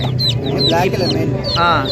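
A hen with six chicks at a Saturday Aseel chicken market in Mydukur makes several short clucks, and chicks give high chirps close by. Market chatter and voices run underneath.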